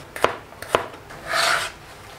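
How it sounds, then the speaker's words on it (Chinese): A knife slicing garlic on a board: two crisp, close cutting strokes followed by a brief rasping scrape, with no talking. "大蒜切片"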